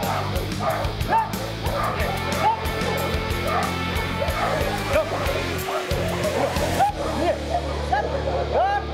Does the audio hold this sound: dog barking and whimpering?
yes